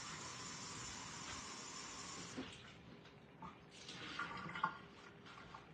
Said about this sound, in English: we're just going to put some water on here and get that boiling up